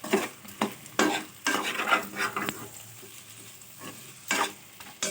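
Turmeric and chili powder mixed into drumstick dal in a pan, a series of loud, close stirring scrapes in irregular bursts over a faint sizzle, with no voices.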